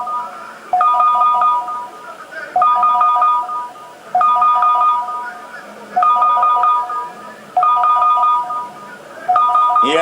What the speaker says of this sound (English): The fucking phone is going off.